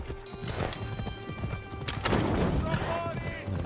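Hooves of the horse Phobos clip-clop steadily while riding in Assassin's Creed Odyssey, a continuous close rhythm under game ambience and music, with a brief whinny.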